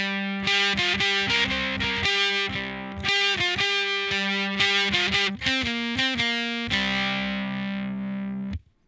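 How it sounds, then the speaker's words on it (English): Heavily fuzzed, distorted ukulele chords through an AU79 Gold Fuzz pedal, strummed in bursts with short gaps, loud and buzzing, ending in an abrupt cutoff. "The fuzz pedal I used is the AU79 Gold Fuzz."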